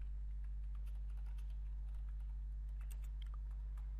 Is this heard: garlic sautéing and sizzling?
no